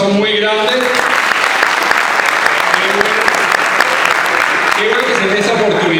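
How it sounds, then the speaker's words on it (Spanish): A seminar audience breaks into loud, sustained applause, many hands clapping densely throughout, with a voice talking and cheering over it at the start and near the end. "Démosle un aplauso muy grande."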